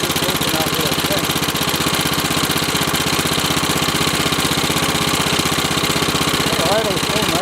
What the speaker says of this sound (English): The idle's so nice, though.